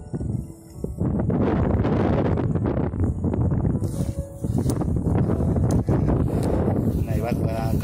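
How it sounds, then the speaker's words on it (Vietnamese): Strong gusting wind at a kite-flying field in Vung Tau, buffeting the microphone in a loud, steady roar that carries on throughout, with a voice talking over it. "Gió ở Vũng Tàu, thành phố Vũng Tàu không phải như ở Giang mình, gió rất là lớn."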